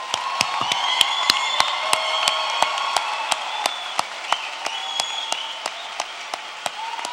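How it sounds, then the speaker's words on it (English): Graduates and audience at a 2017 School of Education graduation ceremony give a round of applause, a steady spread of claps with a few sharper accents standing out, moderately distant and sustained throughout. "Please give yourself a hand"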